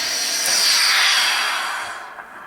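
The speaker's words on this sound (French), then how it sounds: "Je prends mon fer et je repasse pour voir ce que ça va donner. Donc si je fais ça avec la vapeur" A steam iron releases a strong, steady hiss of steam onto velvet fabric at close range, swelling then tapering off near the end with no talking.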